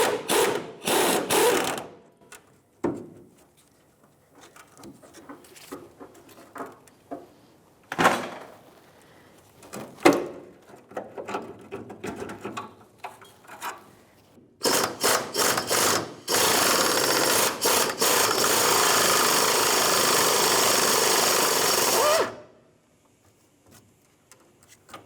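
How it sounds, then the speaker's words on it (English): An air gun with a 15mm socket on a 1/2 inch wrench works to break loose tank strap nuts and bolts on a 1992-1996 Ford F-150, with loud short bursts and clanks, then a long sustained whirring run before it stops. "1/2 inch wrench and a 15mm socket with my air gun, trying to get these to break free."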